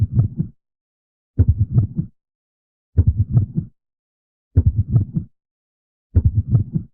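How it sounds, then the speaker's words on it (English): A heartbeat audio cue for Afton in the FNAF video game, made of five low, muffled, throbbing pulses repeated at steady intervals with silence between them. "It's Afton's heart beating, right?"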